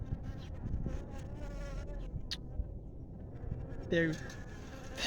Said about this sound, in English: there will be bees photobombing the video because I am trying to attract bees